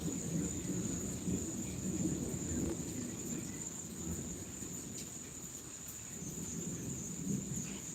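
Steady rain hisses continuously, with a low rumble underneath and a faint high insect-like whine throughout.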